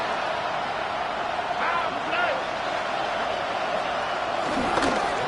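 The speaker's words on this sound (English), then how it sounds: "The crowd at Arrowhead roaring." Crowd at Arrowhead Stadium in the Madden 26 football video game, a steady broad roar filling the background beneath a commentator talking throughout.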